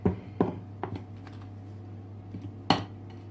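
Spoon tapping and scraping as red velvet cake batter is scooped into baking tins, giving a few sparse, close clinks and knocks separated by quiet pauses over a low steady hum.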